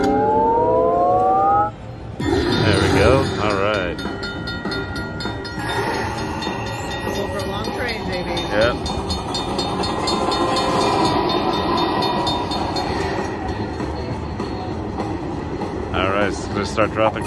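Dragon Link slot machine train bonus feature playing in a casino: a loud, steady run of synthetic train rumble and chiming bell tones with siren-like electronic sweeps, while a person talks over it.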